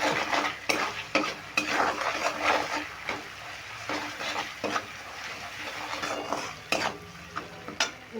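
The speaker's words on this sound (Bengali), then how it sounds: "আমি কিন্তু এবার মশলাটাকে কষিয়ে নেবো" A spatula repeatedly scrapes and knocks against a pan while a poppy seed, cashew and melon seed masala paste sautés with a soft sizzle, rhythmic stirring strokes close up with no talk.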